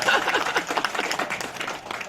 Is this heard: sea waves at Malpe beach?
no